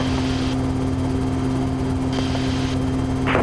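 A helicopter drones on in steady flight, a constant rotor and engine hum with a sharp whine, close and unbroken for a few seconds.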